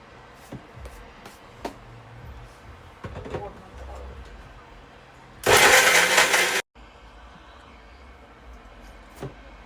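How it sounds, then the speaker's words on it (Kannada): A mixer grinder jar running with coriander powder in it, a loud dense whirring burst of about a second near the middle, set among quieter kitchen clatter and bumps. "ಮಿಕ್ಸಿ ಜಾರ್ ಹಾಕಿ ಮಿಕ್ಸ್ ಮಾಡ್ಕೊಂಡೆ"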